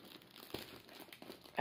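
Quiet crinkling of gift wrapping paper, a few soft rustles and crackles close by with a sharper crinkle at the end.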